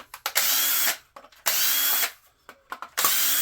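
Cordless power drill with a number 1 bit unscrewing power strips for scrap brass, running in three loud sustained whirring bursts separated by short clicks and pauses.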